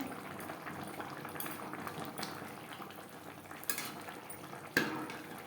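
Vegetable curry in coconut-paste gravy simmering in a pan, a steady soft bubbling and sizzle with occasional light clinks of a utensil against the pot, close and moderately quiet throughout.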